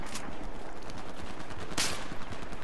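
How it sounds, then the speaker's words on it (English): Rapid gunfire from Battlefield 4, a dense loud burst of shots with a couple of sharper cracks standing out, close and continuous over the whole moment. "someone took pop shots at me"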